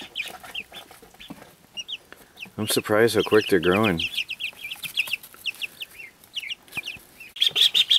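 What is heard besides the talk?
ducklings chirping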